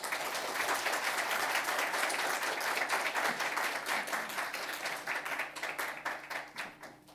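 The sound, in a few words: audience applause welcoming a speaker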